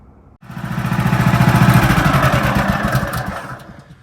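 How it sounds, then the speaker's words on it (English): A sawmill engine starts after a short quiet moment, catching quickly and running at a loud, steady, chugging pace, then easing slightly toward the end. "Let's get the sawmill started and start sawing."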